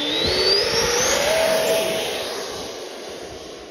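A CMFC XFLY Alpha Jet 80mm EDF radio-controlled model jet flies past, its loud turbine whine rising steadily in pitch and then easing as it moves away, with no talk over it.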